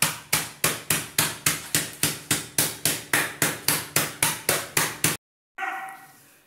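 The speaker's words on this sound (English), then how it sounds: "Grind it with a rolling pin like this." A rolling pin strikes Oreo biscuits about seventeen times in a steady, fast rhythm, each hit a sharp crunching thud, loud and close, then a brief silence and a softer scrape.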